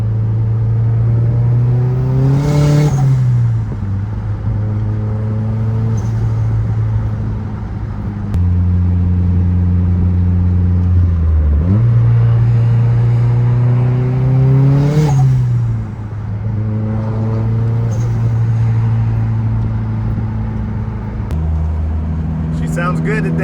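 A modified Mazdaspeed 3 drives at a car show, its engine note rising and falling loudly through repeated rev sweeps and gear changes, close and dominant for the whole stretch with a voice now and then underneath.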